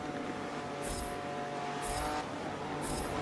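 A sports car engine drones steadily in the Forza racing game, a constant motor hum with periodic high whooshing bursts roughly once a second, fairly loud and with no talking.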